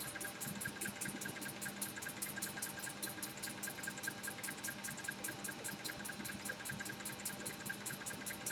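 Sewing machine stitching a leather drawstring bag at high speed without backstitching, a steady fast needle chatter repeating evenly throughout, close and loud with no talking.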